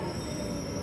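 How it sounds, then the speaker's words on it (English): A train rolls past in a short, steady rumble with a thin high wheel squeal over it. The sound is close, continuous and loud, with no talking. "There's a train. There's a train."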